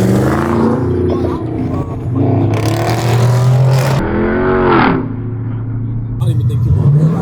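A Dodge Charger R/T revs and rumbles in downtown traffic after a Dodge car meet, loud and close, with engine swells rising and falling while people talk over it.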